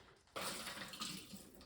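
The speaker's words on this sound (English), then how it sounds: "I'm draining the water off." Water rushes and splashes steadily as it is poured off an opened package of firm tofu, a broad, close gushing that starts abruptly and continues without talk.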